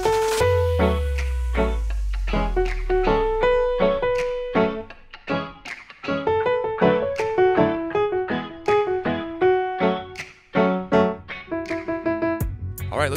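Solo piano plays the chorus of a pop song, rhythmic chords and syncopated right-hand notes over low bass notes, close and clear throughout with no talking.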